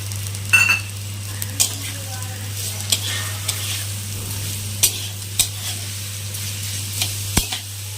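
Olive chutney with sugar being stirred in a pan, a soft continuous sizzle with scattered scraping clicks of the spoon against the metal over a steady low hum.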